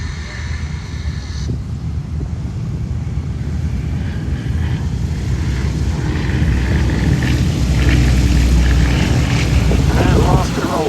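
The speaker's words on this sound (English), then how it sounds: "going off the grass, the two very distinctive forms of the Westland Lysander" Two Westland Lysander 3A aircraft take off from grass at the Duxford Battle of Britain Airshow, a steady engine roar building under crowd noise and wind buffeting, growing a little louder toward the end.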